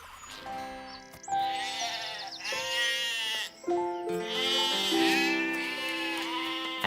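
Cartoon sheep in a children's animated farm story bleat in several overlapping, wavering calls, fairly loud and close, with no talk over them.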